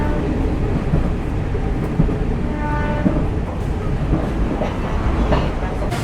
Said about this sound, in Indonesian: kereta murah dari Blitar ke Kiara Condong Bandung yang masih menggunakan ekonomi kasta terbawah 106 tempat duduk